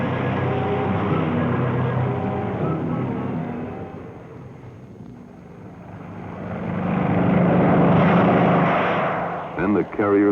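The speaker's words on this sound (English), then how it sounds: "Their target was hundreds of miles away when these B-25s took off" B-25 bombers in 1942 take off from an aircraft carrier at sea, their propeller engines droning loudly, dipping briefly midway and then swelling again under an older narrated voice.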